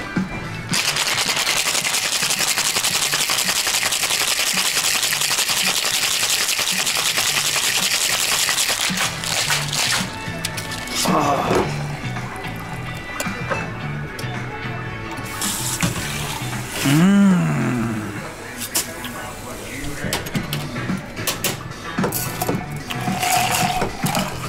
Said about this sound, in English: So, let's shake it.